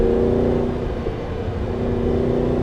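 An Audi R8's V8 engine hums and rumbles at around 4,000 RPM while driving, a steady mid-pitched drone with a slight rise, heard from inside the car and without talk.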